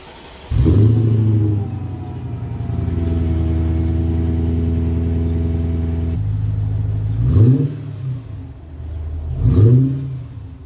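A Mercedes GLK 350 with fully collapsed air suspension cold-starts, the engine catching with a loud flare and then settling into a steady, high idle. Two short blips of the throttle follow near the end, close to the car.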